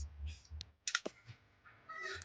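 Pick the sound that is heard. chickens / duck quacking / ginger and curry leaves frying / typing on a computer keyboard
typing on a computer keyboard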